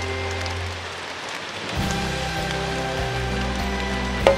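Rain falls steadily in a forest at night during a stag beetle hunt, a constant dense hiss of drops on leaves and surfaces, fairly loud and close, with no talk.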